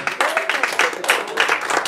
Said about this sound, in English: Clap your hands if you got greatness